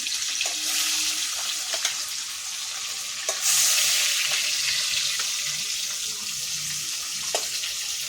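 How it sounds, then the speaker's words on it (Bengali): Large pieces of fish frying in a pan for a curry, a steady close sizzle with occasional clicks and scraping of a utensil, and a brief louder surge partway through, with no talk. "একটা সাইড ভাজা হয়ে গেছে আরেকটা সাইড উল্টে দেবো"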